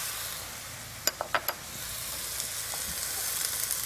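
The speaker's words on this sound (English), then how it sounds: "we're going to let these saute up and kind of come together for just a little while" Noodles sautéing in a pan with white wine and vegetable broth give a steady soft sizzle, broken by a few quick clinks of a utensil near the start.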